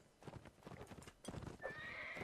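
Horses in the Mount and Blade Warband line battle clatter in fast clip-clop hoofbeats at close range, then a drawn-out neigh cuts in over the galloping near the end.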